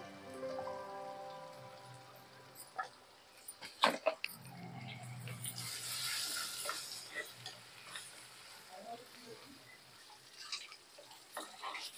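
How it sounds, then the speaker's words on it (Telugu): Ginger garlic paste with turmeric frying in a pan, giving a soft, steady sizzle with some stirring scrapes. A loud clatter comes midway. "మంచిగా వేయించుకోవాలి"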